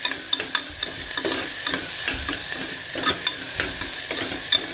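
Sambar simmers and sizzles in a pot while a spoon stirs it, giving repeated scraping and clacking strokes over a steady bubbling hiss, close and clear with no talking.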